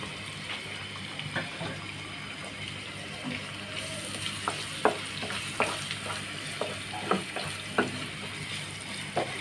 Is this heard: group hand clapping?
no